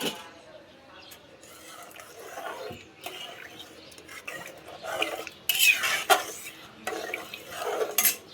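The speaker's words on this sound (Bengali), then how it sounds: "এখন আমি ভিজানো ডালটা এর সাথে দিয়ে দিব, মাংসের সাথে মিক্স করে দিব" Soaked lentils stirred into cooked meat in a pot for haleem, with a spoon scraping and clattering against the metal in irregular bursts that grow louder toward the end, close by and without speech.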